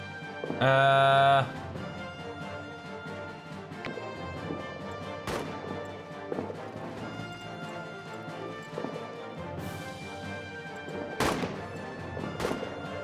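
Gunfire in a World War I trench battle video game, with scattered sharp shots and bangs through a dense layer of music and battle noise, plus a loud burst near the start.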